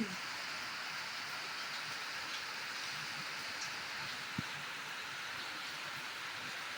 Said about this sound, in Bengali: দেখলেন কেমন এখানে বৃষ্টিটা নেমেছে, একবারে হুড়মুড়িয়ে বৃষ্টি নেমেছে।